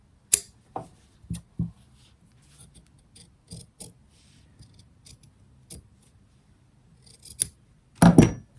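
Scissors trim fabric for a sewn bag: a series of separate crisp snips spaced out over several seconds, close up, ending in a louder cluster of cutting and rustling.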